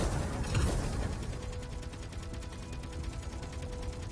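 Missiles fire and explode in Space Engineers: a quick rattling volley of launches and distant blasts, then a steady muffled pulsing rumble, fairly faint overall.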